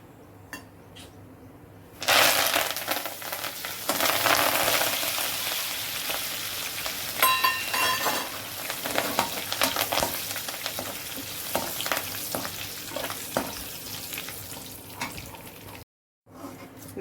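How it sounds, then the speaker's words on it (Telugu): Curry leaves sputter and crackle loudly in hot oil alongside cashews and dried red chillies, a dense, sustained sizzle with scattered pops and spoon-against-pan scrapes that cuts out abruptly near the end. "ఇప్పుడు అలాగే కరివేపాకు కూడా వేసి కొద్దిగా వేపుకుందామండి."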